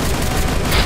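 A dense, loud barrage of shooter-game gunfire, overlapping shots and blasts blending into a continuous roar, close and heavy throughout.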